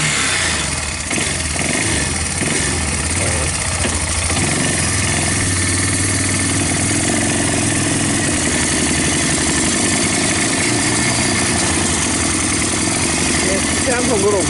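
A Yamaha Bear Tracker 250 ATV engine with a new intake and carburetor, running a little rich, holds a loud, continuous close-up idle with a slight rough pulsing for the whole stretch.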